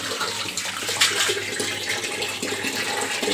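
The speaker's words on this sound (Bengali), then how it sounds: "দেখি জল চলে এসেছে, জলের আওয়াজ হচ্ছে, তাই জল ভরতে আসলাম।" Water gushes from a tap into a container, a loud, continuous rushing and splashing, close by with no talk.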